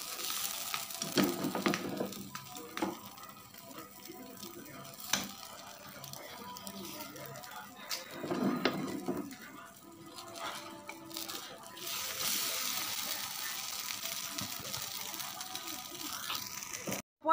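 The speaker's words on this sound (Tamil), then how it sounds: "இப்போ பாருங்க கைஸ், நம்ம தோசை திருப்பி பார்ப்போம்" An egg dosa sizzles on a hot pan, a steady soft frying hiss with scattered scraping clicks and a brief louder rush near the end.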